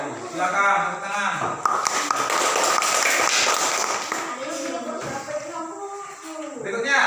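A classroom of pupils applauding during a teaching session, a dense sustained patter of many hands at moderate loudness with voices breaking in at the start and end.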